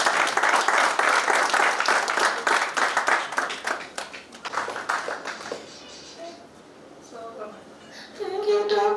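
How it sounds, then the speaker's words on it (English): A round of applause from an audience at a Zimbabwean choir event, loud dense clapping that gradually thins and fades, then a voice speaks and the clapping swells back briefly at the end. "So a round of applause for this special man."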